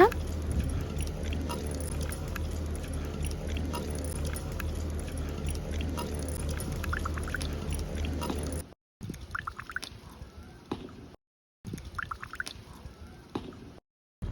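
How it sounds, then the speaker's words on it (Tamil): Tamarind being squeezed and dissolved by hand in water for a village-style clay pot fish curry, with wet squishing, squelching and dripping, steady at first and then in short bursts broken by silent gaps. "புளி தண்ணியை இப்போ நல்லா கரைச்சிக்கோங்க."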